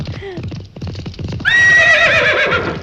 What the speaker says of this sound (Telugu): నీ అరుపు రేసు గుర్రం సకిలింపులా వినిపించిందిరా.